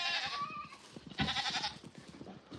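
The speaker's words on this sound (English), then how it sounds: "We're gonna find this goat." Goat bleating nearby, two wavering calls separated by a short pause, clear over faint background noise.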